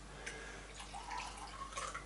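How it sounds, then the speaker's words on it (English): Water is poured out of a coffee brewer before the first brew, a faint, brief splashing trickle in a quiet room. "let's pour this water away before I do my first brew"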